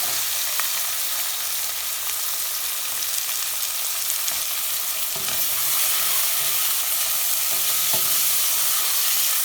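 Tomatoes cook down in a pan for a sour aubergine curry, a dense, even frying hiss with faint stirring taps scattered through, steady and close, nobody speaking.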